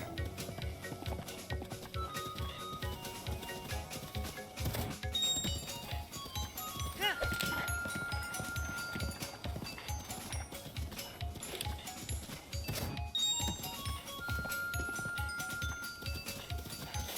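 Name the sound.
horse hooves clip-clop in Zelda Breath of the Wild video game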